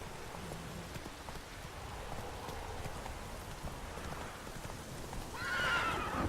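A horse in The Witcher 3 neighs near the end over steady rainfall and clip-clopping hooves, the whinny rising loud and brief after several seconds of galloping under the rain.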